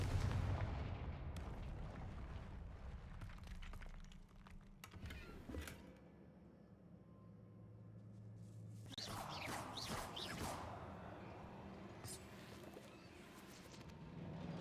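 Confringo spell blasts in the Hogwarts Legacy video game: low rumbling booms and sharp cracking bursts, strongest near the start and around the middle, with crackling debris-like clatter between them.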